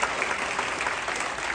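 Crowd at a beach star-meet event applauding loudly, a steady, continuous wash of dense clapping throughout with no gaps.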